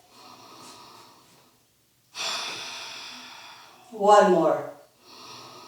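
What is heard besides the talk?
deep Ujjayi yoga breathing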